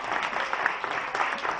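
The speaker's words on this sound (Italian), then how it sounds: "fate un bel applauso" An audience applauds at a magic show during the San Marziale festival, a short burst of steady, moderately loud clapping with no voices.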